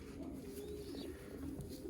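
Young racing pigeons coo softly inside a loft, low throaty murmurs overlapping under steady background noise with no talking.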